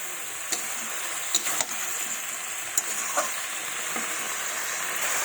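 Vegetables such as peas and cauliflower sizzle softly in a pan, broken by several sharp clicks and scrapes of stirring, quiet and without talk.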